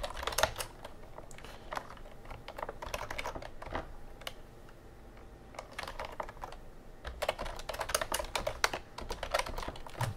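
Rapid typing on a computer keyboard in a Linux terminal, a close, continuous patter of clicky keystrokes in bursts with a short lull midway, with no voices.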